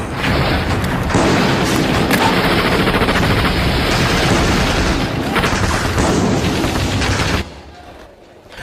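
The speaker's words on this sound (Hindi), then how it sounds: "तगड़ी थी उनकी घेराबंदी और मुंह बंदूकों के गरज रहे थे।" Dense war-scene gunfire effects with deep booms and rapid bursts, loud and continuous for about seven seconds before dropping away into quiet.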